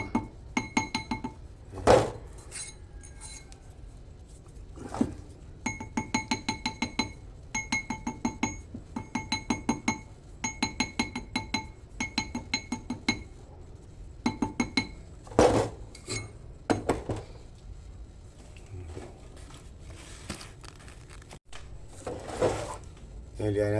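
During repair of a metal ring, a small hammer delivers light, rapid metallic taps in repeated clustered bursts with short pauses between them, ringing with a bright clink, close and moderately quiet.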